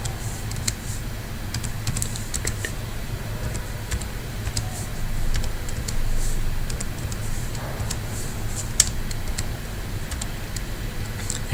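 Keys clatter on a computer keyboard as a recipe name is typed into SCADA recipe-management software, quick irregular taps over a steady low hum.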